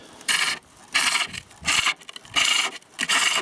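A wooden bowl turning on a pole lathe: a rhythmic rasping, scraping cut in five regular bursts about half a second apart, close and fairly loud, with quieter gaps between strokes as the treadle returns.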